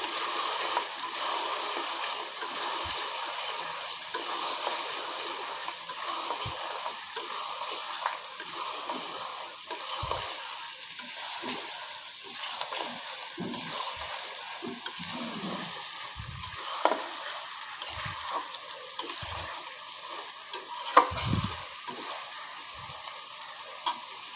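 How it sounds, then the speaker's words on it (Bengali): Beef being stir-fried in a pan for a Bengali beef and shola kochu curry, a steady broadband sizzle running throughout with frequent short scraping and clattering strokes of a spatula against the pan, fairly close and unbroken by talk. "আমি মাংসটা একটু ভুনে নিচ্ছি"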